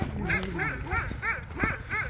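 A dog whimpering and yipping close by: a steady series of high, whiny yelps in a regular rhythm, loud and continuous, with faint voices and commotion underneath.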